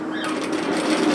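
A sewing machine back tacks at the edge of an apron's fabric, a steady close whir of rapid stitching running continuously for a moment without pause.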